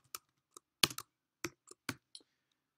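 Keys on a computer keyboard are struck one at a time, about eight crisp, sparse clicks at an uneven pace, close and quiet, with silence between them.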